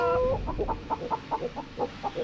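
Chicken clucking in the space survival game Breathedge: a string of about ten short, evenly spaced clucks heard close up, with a low steady hum beneath and no talking.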